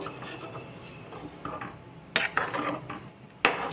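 A spoon scrapes and knocks against the inside of a pot of rice buttermilk porridge in several uneven strokes, with a few sharper clinks near the end.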